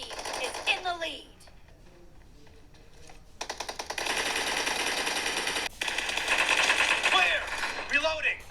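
Bursts of automatic gunfire from PUBG played on a Redmi Note 10 Pro, rapid rattling volleys over constant game ambience, with a short gap before a long sustained stretch of shooting and a few swooshing effects.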